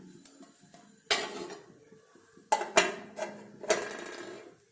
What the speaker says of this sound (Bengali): কুকারটি গরম হতে হতে আমরা অন্য একটি পাত্র ওভেনের ওপর বসিয়ে দিলাম